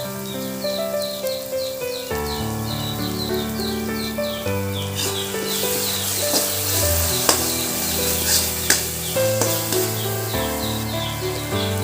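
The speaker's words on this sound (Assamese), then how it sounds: "বিলাহীখিনি একেবাৰে সিজি নোযোৱালৈকে ভাজি থাকিম" Tomatoes fry with garam masala in a pan for an Assamese-style macaroni pasta, giving a steady close sizzle that runs throughout, partly masked by tonal background music.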